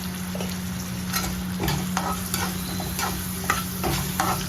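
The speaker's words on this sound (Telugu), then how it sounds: "ఇది బాగా ఎర్రగా వేగేదాకా మనం వేయించుకున్నాం." Onions with turmeric and salt fry for a curry leaf chicken dish, giving a steady sizzle in the pan with intermittent scraping stirs of a spoon, close up, with no voices.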